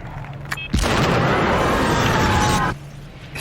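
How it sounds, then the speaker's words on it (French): A sudden loud boom from a remote-detonated explosion in a TV drama erupts after a short click, followed by a sustained roaring rumble that cuts off abruptly. "a déclenché l'explosion avec la télécommande"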